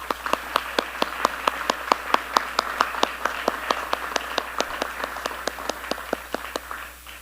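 Sparse audience clapping at a speaker event, a thin, evenly paced patter of individual hand claps from a small crowd in a hall, steady for several seconds with no voices.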